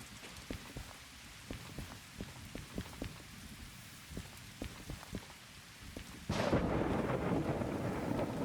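Heavy rain patters steadily while sharp cracks of thunder and lightning strikes pop at irregular intervals in the Derail Valley train game, then a louder, denser downpour surges in near the end.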